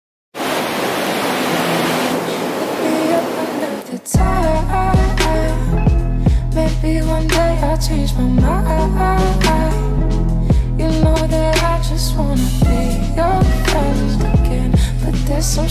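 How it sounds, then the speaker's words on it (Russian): Ocean surf on a Sri Lankan beach roars as steady broadband wash for about four seconds before music takes over for the rest. "закончить сегодняшний день просто на пляже под звуки волн"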